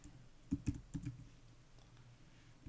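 A few quick keystrokes tap on a computer keyboard, a brief soft cluster of clicks followed by near-silence, faint and close.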